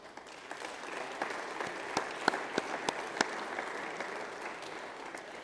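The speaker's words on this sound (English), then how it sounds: "that deserves an applause" An audience at a European social summit in Porto breaks into applause, a dense, steady crowd clapping with a few sharper individual claps standing out, continuous for the whole stretch.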